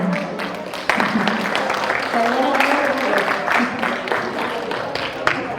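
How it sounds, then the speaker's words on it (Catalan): An audience applauds at a school recital event, Rapsodes 2021 at IES JM Parra in Alzira. The clapping is steady and fairly loud throughout, with voices mixed in underneath. "després ja li donem un fort aplaudiment"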